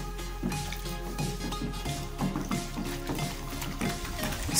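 Water pours into a mixing container of homemade antiseptic liquid made with texapon, pine oil, phenol and chloroxylenol, a soft continuous trickle and splash with faint dripping, fairly quiet and heard alone.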